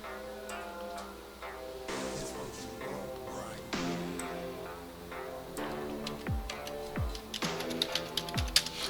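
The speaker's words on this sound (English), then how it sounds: "so I'm gonna type in strong AI." Typing a search phrase on a computer keyboard: a run of light, close key clicks with irregular spacing, set against faint background tones and a few sharper taps.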